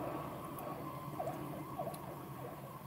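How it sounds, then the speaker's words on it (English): A faint siren wails in the distance, its rising and falling tone partly buried under background traffic noise. "And an ambulance."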